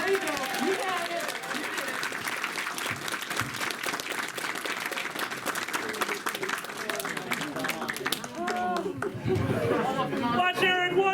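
Audience at a stand-up comedy show claps and chatters throughout, a dense steady wash of hand claps mixed with murmuring voices and some louder cheering near the end.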